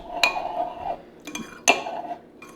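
A spoon clinks against a bowl while stirring a yeast mixture for homemade bread, giving three sharp ringing metallic taps with short scrapes between them, close and clear, with no talk.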